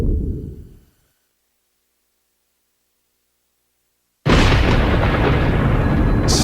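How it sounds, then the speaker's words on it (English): Thunder at a Division III softball championship game: a low rumble fades out, then after a pause a loud, dense, broadband roar bursts in and holds steady to the end. "That noise is thunder at the tee."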